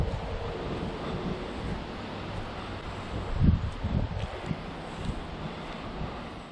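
Strong wind blows outdoors near trees, a steady rushing roar with buffeting gusts against the microphone and a louder surge partway through.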